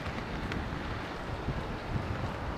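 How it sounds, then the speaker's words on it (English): Strong gusting wind buffets the microphone, a continuous low roaring rumble with no voices. "Getting kind of windy. Very windy."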